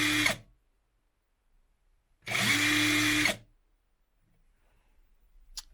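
A Sealy cordless impact gun runs in two bursts: a short buzzing whir, then a longer steady run of about a second with a rising start, close and loud, separated by silence.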